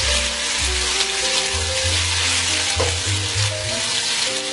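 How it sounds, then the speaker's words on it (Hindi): Garlic and ginger paste fry in hot oil with a loud, continuous, close sizzle while being stirred, a low hum running underneath. "साथ ही इसके अंदर डालूंगी लहसुन का पेस्ट, इसे अच्छे से मिक्स करके"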